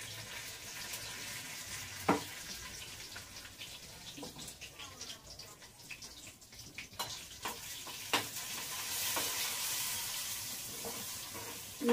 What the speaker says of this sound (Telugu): జీలకర్ర, తర్వాత కొంచెం ఇంగువ వేసి వేయించుకుందాం.